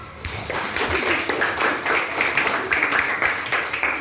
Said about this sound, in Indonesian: Tepuk tangan buat Arga.